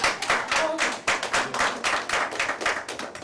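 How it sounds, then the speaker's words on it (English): A small group at a Ward 4 meeting in Fayetteville, Arkansas applauds with steady, overlapping hand claps, fairly close and continuous, no voices. "I just think we should clap as Ward 4 meeting for Mr. Ivers."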